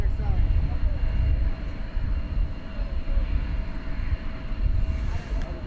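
An American Eagle regional airliner at DFW Airport gives a low, steady engine rumble that carries from a distance, swelling and easing slightly throughout.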